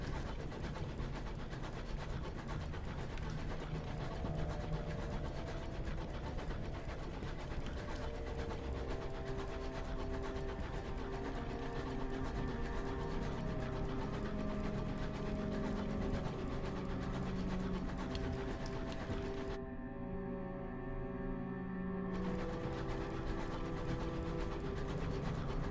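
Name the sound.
train navigational charting sound effect in Sunless Skies video game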